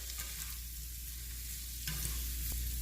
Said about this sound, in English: Put in the asparagus. Give it a little stir.